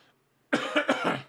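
A single close, loud cough into a microphone, a short burst of three or four rough hacks after a moment of silence, with no talking.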